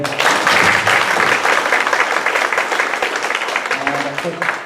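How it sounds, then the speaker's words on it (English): Sustained applause from an audience at a community forum in Salinas, California, steady clapping that fills the room for several seconds, with a few voices mixed in. "Give them a round of applause,"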